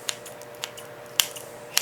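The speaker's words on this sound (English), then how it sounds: "Just grab your scissors and just start going to town." Kitchen scissors snip through bacon in a few sharp, separate cuts spaced about half a second apart, close up over a faint steady background hum.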